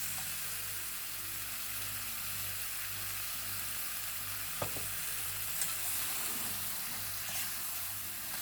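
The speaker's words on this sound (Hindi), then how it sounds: "अब हम इसमें अपनी कटी हुई सब्जियां, आलू और गोभी इस तरह से अच्छी तरह डाल दें और इसको अच्छी तरह चला दें" Potatoes and cauliflower frying and being stirred in a black iron kadhai, giving a steady, soft sizzle throughout with a couple of faint scraping clicks and no talking.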